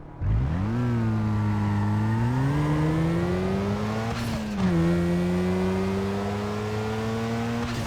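A Mazda RX-7 in Need for Speed Underground 2 revs up from idle and climbs through the gears, a loud, close buzzing engine note that rises in pitch, dips briefly at a shift near the middle, then holds steady.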